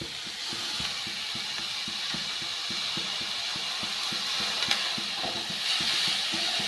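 Washed papaya pieces being stirred in a wok with turmeric, a spatula scraping and knocking against the pan in a steady repeated rhythm over a soft background sizzle, close and moderately loud, with no talking.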